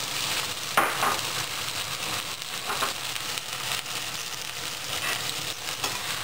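Blanched carrots sauté in sesame oil in a hot pan, giving a steady, close sizzle and crackle that holds the whole time, with a brief louder burst near the start.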